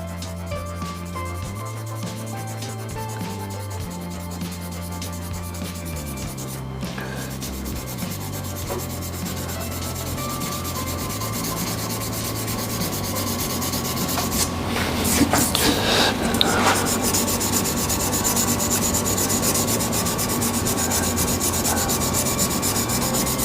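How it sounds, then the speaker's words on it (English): Sanding an African zebrano wood pen on a lathe: a steady, continuous rubbing hiss over the low hum of the spinning lathe, growing louder and harsher midway before settling back, with no talk. "And then I'll give it a little sand that way."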